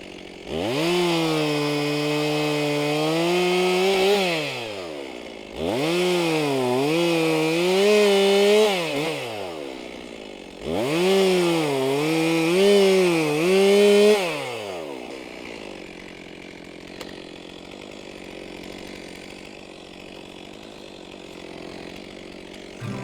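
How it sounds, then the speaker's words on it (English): A chainsaw cuts through dried shagbark hickory firewood in three long passes, each rising to a loud, straining whine before dropping away. After the third pass the saw idles down to a faint hum. "Your chain should cut about 1 inch a second, even on dried wood."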